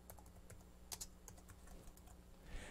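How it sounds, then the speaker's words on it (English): Quiet typing on a computer keyboard connected to a Raspberry Pi 2, a run of soft irregular key clicks with a couple of sharper taps, close and faint, no talking. "type in it using the keyboard that you saw before"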